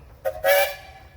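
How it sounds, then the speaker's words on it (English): Steam engine whistle at a steam engines parade in Georgetown, Ohio, giving a short toot and then a longer, louder blast, fairly near with faint background noise. "How about a whistle, fellas?"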